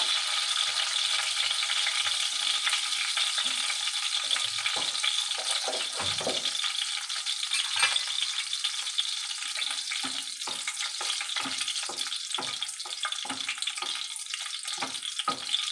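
Nigella seeds and dried chilli frying in hot oil, a continuous close hiss and crackle with small pops, steady throughout and with no speech.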